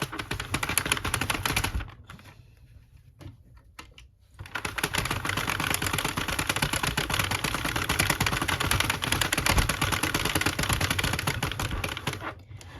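Sentro 40 pin knitting machine being cranked, a rapid continuous ratcheting clatter of plastic pins and yarn, briefly pausing before resuming at a steady pace, close by.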